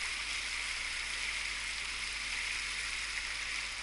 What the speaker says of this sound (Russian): Сегодня я решил сделать видео без музыки, чтобы вы насладились журчанием воды